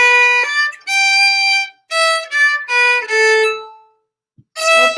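Fiddle playing a short phrase of bowed notes, bright and close, in several connected strokes with brief gaps, then a pause and one more note starting at the end.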